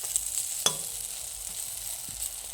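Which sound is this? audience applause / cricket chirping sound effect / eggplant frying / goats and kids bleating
eggplant frying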